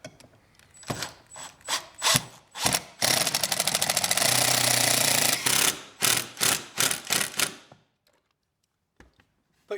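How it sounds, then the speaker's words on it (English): A power driver spins screws into a wall to mount a simplified floating shelf: short whirring bursts, one long sustained run in the middle, then a few more quick pulses before it falls quiet. "let me screw this into the wall and show you just how this works"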